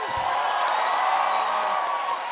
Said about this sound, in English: Please deafen everyone in the room with a massive applause for Smithy,